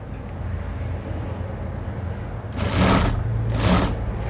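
Sewing machine stitching elastic onto very stretchy trouser fabric; a low background hum gives way to two short louder bursts of stitching near the end.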